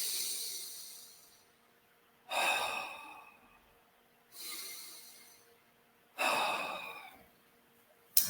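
Slow, deep breaths during a guided breathing exercise, each airy inhale or exhale swelling then fading, four long breaths separated by quiet pauses, close and soft.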